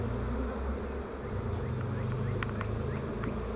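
Honey bees buzz around an open hive during an inspection, a steady low hum close by with a few sharper passes of single bees darting near.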